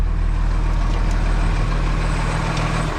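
A truck engine idles loudly and close by with a steady low rumble for a few seconds. No one speaks.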